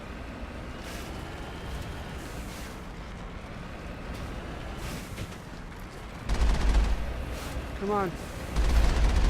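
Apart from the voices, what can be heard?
turret gunfire in the video game Mass Effect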